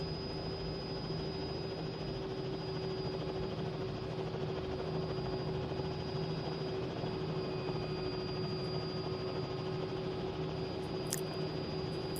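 A simulated CowanSim R66 turbine helicopter takes off in Microsoft Flight Simulator, producing a steady, droning turbine whine and rotor rumble that stays constant and fairly loud throughout with no speech.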